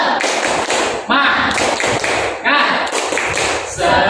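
A class does a rhythmic tepuk semangat clapping chant, with crisp patterned hand claps and taps in quick groups mixed with chanted voices, loud and close.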